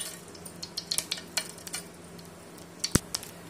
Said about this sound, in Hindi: राई तड़क गई